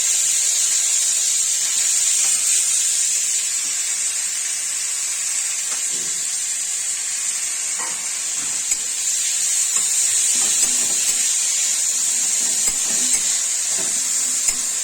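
Mashed pea greens are tipped into a hot pan for a winter pea-shoot ghonto and give off a loud, steady hiss of sizzling and steam. The hiss runs unbroken for about fifteen seconds with a few small crackles and no voices.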